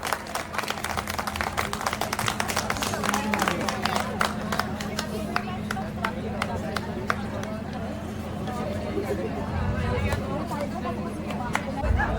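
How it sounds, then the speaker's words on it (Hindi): Audience at the Can-A-Thon event giving sustained applause, dense steady clapping mixed with crowd chatter and a low background hum, continuing for the whole stretch. "A big round of applause for Miss Sharda Lamba"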